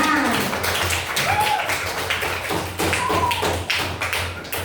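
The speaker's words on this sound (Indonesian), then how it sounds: "tepuk tangan dulu ya buat ibu semuanya" Schoolchildren in a classroom clap for their teacher in a burst of brisk, uneven hand claps, close and fairly loud, with a couple of short voices rising over them.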